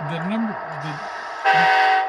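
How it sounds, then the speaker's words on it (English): Horn of an Athearn Via Rail P42 model locomotive, a short electronic tooting blast that swells to a louder, brighter tone near the end. "the horn is not super responsive, because I'm sure that you have to honk it twice in order for it to activate those"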